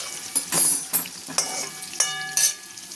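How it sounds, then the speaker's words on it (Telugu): Pieces of bitter gourd frying in a pan, a steady sizzle broken by several sharp scrapes and clinks of a spatula stirring against the metal. "చూడండి, బాగా వేగుతున్నాయి కదా, ఇంకొంచెం వేగాలి."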